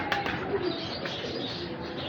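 Pigeons of one matching breeder strain cooing in a loft, a soft, steady murmur of low coos running throughout with light chirps over a noisy background.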